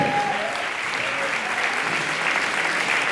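A crowd applauds steadily, dense clapping filling the room without a break, with faint voices underneath.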